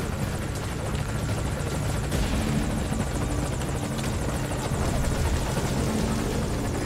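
Helicopter in the video game Metal Gear Solid V: Ground Zeroes, a steady loud rotor chop and engine whine that carries on without a break and with no voices over it.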